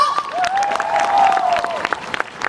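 Audience applause for a singer at a live stage event: a dense, steady patter of clapping from a crowd, carried under a sustained tonal sound, lasting throughout.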